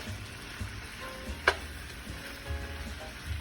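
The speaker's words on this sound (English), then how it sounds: "We're gonna stir all of this around in here." Zucchini and eggplant stirred as they fry in a pan for ratatouille, giving a steady low sizzle with soft scraping and one brief sharp clatter of a utensil midway.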